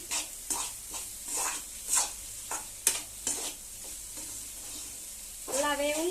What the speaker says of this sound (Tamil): அந்த வெங்காயம் எல்லாம் வந்து சேர்த்து வதக்குறோம்